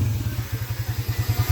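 A small motorcycle engine converted to 200cc with a Brusco big valve head idles close by, a loud, rapid, even putter with a chunky low throb and no voices over it.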